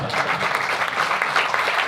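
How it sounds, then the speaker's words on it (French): An audience at a philanthropy and nonprofit association event applauds steadily, a dense and even wash of clapping throughout, with faint voices underneath. "On peut même t'applaudir."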